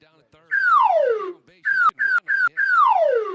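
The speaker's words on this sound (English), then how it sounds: "I love the slide whistle" Slide whistle during a Red Sox vs Padres World Series game 3 stream: long descending swoops opening and closing, with three short steady toots between, loud and close, no talk over it.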